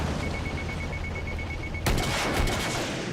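DMR rifle volley fired in a video game: a steady repeating electronic beep runs until a sudden loud burst of rapid shots erupts and rattles on with echoing crackle.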